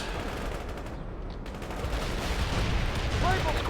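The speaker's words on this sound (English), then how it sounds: "They're firing at us." Video game gunfire from World in Conflict, a war strategy game, with rapid bursts of rifle and machine-gun shots crackling in a battle scene at a moderate level, mixed with background combat noise.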